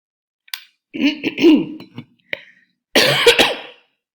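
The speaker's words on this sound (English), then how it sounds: "So sorry, please don't mind my cough." A person coughs in a close, harsh series, with throat clearing, then a final louder burst of coughing.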